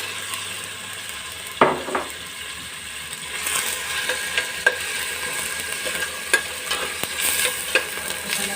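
Pork hitting a hot pan and sizzling steadily for Filipino pancit canton, with a broad frying hiss and scattered stirring clicks and scrapes close by. No talking.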